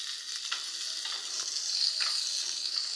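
Chopped onions fry in a pan for a fish-roe dish, giving a steady, close sizzle with soft crackles and a few light stirring scrapes throughout, no voices.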